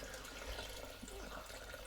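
Water pours from a kettle into a pot of onion soup, a continuous splashing, gurgling stream at moderate volume, steady throughout with no talking.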